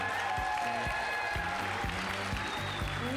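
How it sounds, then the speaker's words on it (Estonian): A crowd applauds steadily at the MURG Playbox 2024 event, with dense clapping filling the whole stretch and a regular low thumping beat running underneath. "Teeme ühe suure aplausi veel kord meie parimatele kohtunikele."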